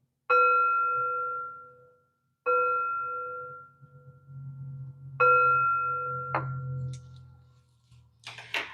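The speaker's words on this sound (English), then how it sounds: "Three chimes to bring in positive energy." Three bright chimes ring one after another, each with a clear sustained tone that slowly fades, over a soft low hum.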